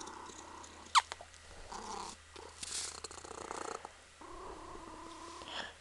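A Ragdoll kitten purrs softly and steadily up close, a low continuous rumble with one brief sharp sound early on.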